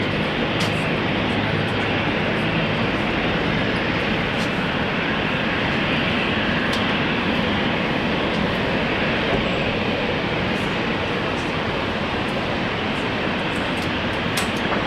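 Airliner on takeoff roll from runway 19 left at Brisbane airport, a loud continuous broadband jet roar that holds steady throughout, with faint radio chatter underneath.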